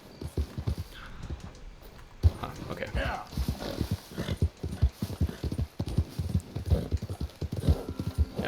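Steady rhythmic clip-clop of a Leopard Appaloosa horse's hooves at a walking pace in Red Dead Redemption 2, close and clear, with a brief spoken remark over the trotting.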